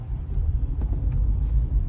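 Car interior road noise while driving, a steady low rumble and engine drone close and continuous throughout, with no voices.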